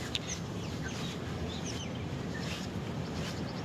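Striated pardalotes call near nesting cliffs with faint, high, repeated chirping notes scattered over a steady outdoor hiss.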